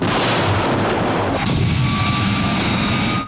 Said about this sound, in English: the explosions are going off around it